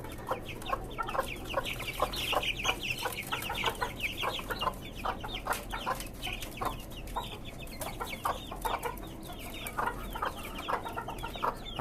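A flock of desi and tiger chickens on a rooftop farm clucks steadily, with dense overlapping calls and cackles close by throughout, set against a low farmyard hum.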